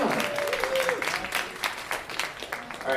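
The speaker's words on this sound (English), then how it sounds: "Everyone applaud." Applause from a comedy show crowd, a brief steady burst of clapping at moderate loudness with voices faintly audible underneath.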